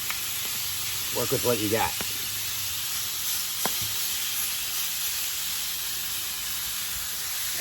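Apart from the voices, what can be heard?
beef tenderloin sizzling while flipped on Masterbuilt griddle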